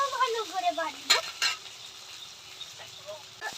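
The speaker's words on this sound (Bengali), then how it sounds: "তবে টমেটো কুচি, ভালো করে ভাজবো।" Chopped tomatoes fry with onion in a pan for a katla fish curry, making a steady sizzle with stirring scrapes and utensil clinks while a person talks over it.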